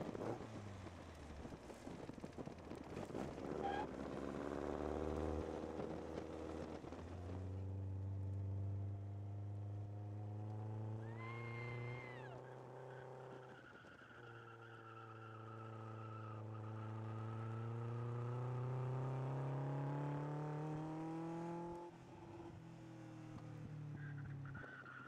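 A powerful, fast Lotus sports car engine drones steadily, its pitch climbing and falling through repeated revs and gear changes over a sustained, fairly loud run with no talking.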